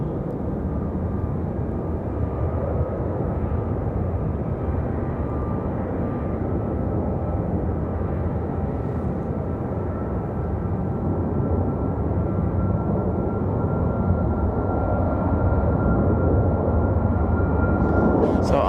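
Boeing 737 MAX airliner at Raleigh-Durham International Airport, a continuous broad jet-engine rumble and roar heard from a parking garage, steady and fairly loud for the whole stretch.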